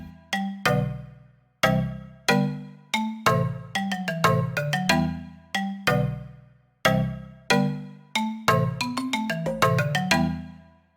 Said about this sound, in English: I have this wide marimba preset